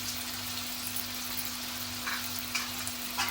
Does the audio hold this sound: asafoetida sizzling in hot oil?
yes